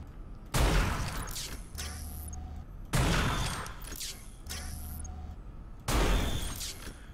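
Three loud, sharp sniper rifle shots from the video game Unreal Tournament 4, spaced about two and a half seconds apart, each with a booming decay and a mechanical rattle between them.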